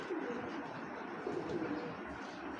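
A giribaz pigeon cooing close by, soft low repeated coos over a faint room murmur.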